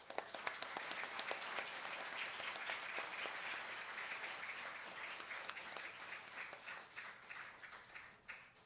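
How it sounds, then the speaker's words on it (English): Steady, faint applause from a graduation audience honoring school teachers and staff, a dense wash of many hands clapping from a distance that holds throughout and tapers slightly at the end. "We'd also like to give a round of applause to recognize all the teachers and staff at Noelani for their hard work and support throughout our years here."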